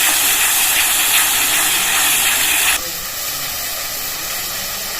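Garlic paste and four spoons of tomato puree frying in a pan for chicken curry give a loud, steady sizzle that runs throughout, dropping slightly in intensity partway and then continuing evenly.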